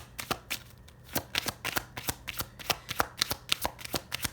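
Tarot cards being shuffled in a quick series of crisp riffling bursts and soft taps, close and clear with no voices.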